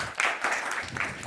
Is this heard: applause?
yes